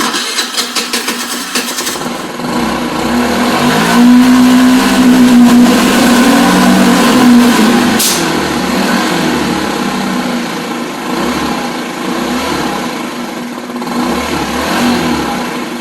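A small moped engine runs steadily at idle during maintenance with a nearly dry fuel filter, starting with an uneven sputter, then holding a continuous close, loud putter with slight rises in revs throughout.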